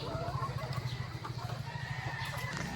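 White Kelso chicken pullets cluck and murmur steadily nearby in a coop, a soft continuous chorus of low rhythmic clucks with no talking.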